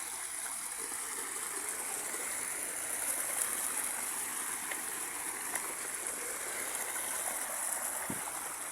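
Steady rushing of water flowing over stones in a large, low, nearly dried river, a continuous broadband wash with no voices, close and moderately loud.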